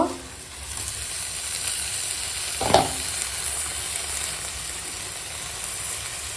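Young spinach tossed into a hot pan, sizzling and hissing steadily, with a sharp burst as it hits the oil and continued stirring and frying close by.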